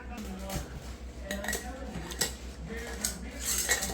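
Metal lids are set onto glass canning jars of corn, giving light clinks and taps of metal on glass in short irregular bursts, with faint kitchen handling noise around them.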